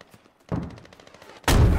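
Gunfire in the military shooter Squad: scattered shots and rattling bursts across the clip, ending in a loud, close, sustained volley.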